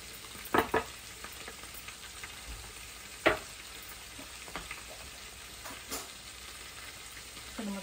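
Chili paste frying for butter chicken gives a soft, steady sizzle in the pan, broken by a few sharp clacks of a spoon against the pan, with no talking.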